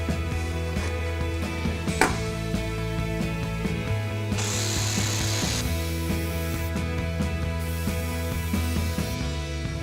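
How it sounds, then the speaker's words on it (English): A jigsaw cuts through a plastic drinks crate, its steady mechanical buzz running nearly unbroken at close range with a sharp crack near the start and a harsher, brighter stretch partway through. "So we line our jigsaw up with that edge, and all we're really doing is pushing it forward towards that other edge."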